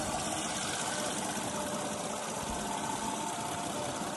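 A 3-litre petrol car engine idles in a steady, even hum with a fine mechanical rumble, close by and unchanging, with no one talking.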